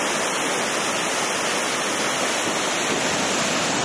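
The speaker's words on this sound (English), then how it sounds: "We're at the bottom of the waterfall over here, and there in the background is the glacier." Waterfall at the foot of a glacier trail near Juneau, a steady, loud, broadband roar of falling water filling the whole stretch with no pauses or voices.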